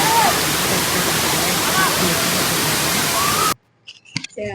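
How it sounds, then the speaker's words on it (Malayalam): A well-known waterfall roars as a loud, steady broadband rush for most of the stretch, then cuts off abruptly near the end, leaving a brief quieter moment with faint voices. "ഇത് അത്യാവശ്യം ഫേമസ് ആയിട്ടുള്ള വെള്ളച്ചാട്ടം"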